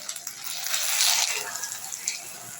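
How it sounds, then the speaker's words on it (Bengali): Water poured into hot caramelized sugar in a pan gives a sudden loud hiss and sizzle with bubbling and spitting, swelling then slowly easing, up close. "এবার আমি এটার মধ্যে সামান্য একটু জল দিয়ে দেবো।"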